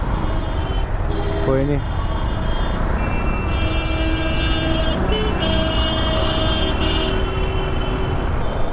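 Evening road traffic from an Apache RR310 motorbike, with constant wind and engine rumble, several car and truck horns honking at intervals, and someone speaking briefly over the noise.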